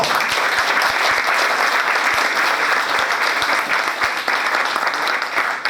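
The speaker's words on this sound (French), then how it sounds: "Il faut applaudir pour ce peuple." An audience applauds at a conference in Denmark, a steady dense clapping sustained for the whole stretch, loud and close with no talking over it.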